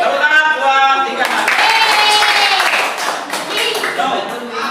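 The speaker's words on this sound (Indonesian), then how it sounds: "Tepuk tangan buat 3." Students clapping hands together in a classroom, a steady burst of clapping mixed with voices that talk and call out over it throughout.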